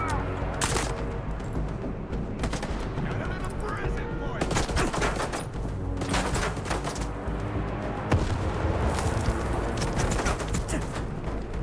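Sustained gunfire in S.T.A.L.K.E.R. 2: Heart of Chornobyl, dense bursts of automatic and single shots cracking loudly and repeatedly throughout, with a few brief voice fragments in between.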